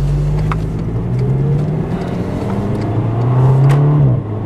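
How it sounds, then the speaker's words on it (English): A 2007 Volkswagen Golf GTI turbo engine hums and rises under acceleration, then drops with a brief burbling dip as the gear changes, heard from inside the vehicle. "It's not loud, but it makes all the right sounds, especially when you shift. It makes this little burp"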